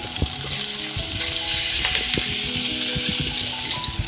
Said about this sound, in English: when the butter is all nice and melted, I'm going to toss in my shrimp.